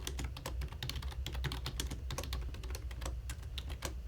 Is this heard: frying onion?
no